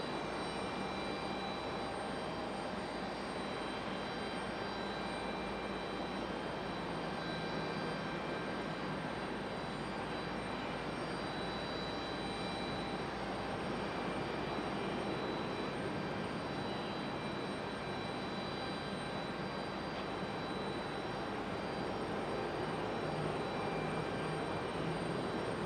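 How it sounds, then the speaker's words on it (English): A Southwest jet touches down on the runway at Raleigh Durham International on a stormy day, a steady, loud broadband jet roar filling the whole stretch with no letup and no voices. "Nice touchdown for Southwest."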